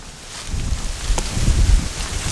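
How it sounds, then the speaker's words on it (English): Steady gusty wind buffeting the microphone, a rumbling low roar with rising and falling surges throughout, no voices. "it's super windy this fine evening"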